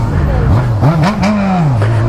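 A Honda Hornet motorcycle without a catalytic converter revs up loud and close, its throaty engine note rising and dipping over about two seconds, with a voice talking over it.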